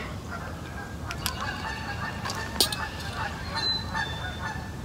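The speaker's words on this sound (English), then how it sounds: "The geese have calmed down a little bit. They're still going." A flock of geese honks repeatedly outdoors, calls overlapping at a moderate distance above a steady background hum.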